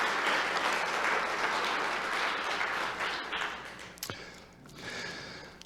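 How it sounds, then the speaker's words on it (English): An audience at an evening event at the Grand Hyatt Vail gives a round of applause, dense clapping that holds for several seconds, then thins out and tapers off. "Would you please give them all a round of applause?"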